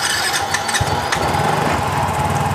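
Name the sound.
Yamaha Soul GT motorcycle engine starting and running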